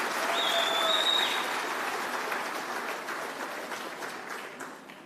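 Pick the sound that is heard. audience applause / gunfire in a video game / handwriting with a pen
audience applause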